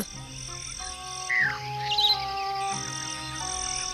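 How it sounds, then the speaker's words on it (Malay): A small bird chirps a few quick, bright notes over soft tonal background music, with short calls standing out near the middle. "Bun, kau nak tangkap burung tu ke?"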